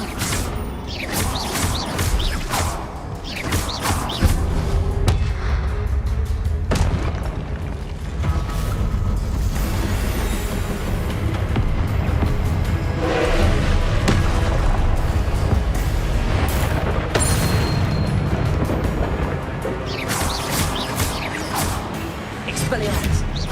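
Confringo blasting-spell explosions go off in Hogwarts Legacy on hard difficulty: loud repeated booms and crashes follow one another almost without pause, with shouted voices over the din.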